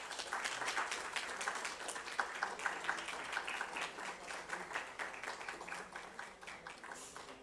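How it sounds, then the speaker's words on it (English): Audience at a food-systems summit breaks into sustained applause, dense overlapping claps filling the room at an even level and tapering slightly toward the end. "may I please have a round of applause"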